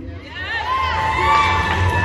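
At an outdoor Back the Blue rally, a crowd cheers and shouts, a dense swell of voices and whoops rising and holding steady, loud and close.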